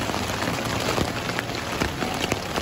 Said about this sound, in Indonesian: titik-titik atau bintik-bintik air hujan yang jatuh di atas tenda ya